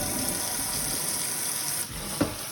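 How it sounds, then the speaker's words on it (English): Tap water runs steadily while a non-surgical hair replacement system is washed from the inside out in a sink, a continuous hiss with a brief dip and a small clack near the end. "So now when we wash the system, we always wash it from the inside."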